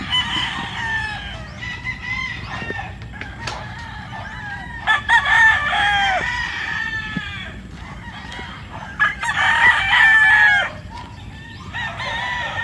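Chickens cluck busily nearby while a rooster crows twice in long, shrill calls, with scattered squawks and rustling in between.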